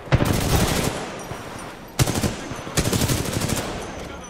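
Rapid automatic gunfire from the Titanfall 2 video game rattles in close, loud bursts, pausing briefly before two more sustained volleys, with a voice faintly present under the shots.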